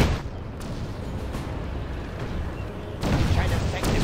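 Heavy cannon fire in the war strategy game C&C Generals: Shockwave, a dense continuous rumble of booming shots that grows louder near the end.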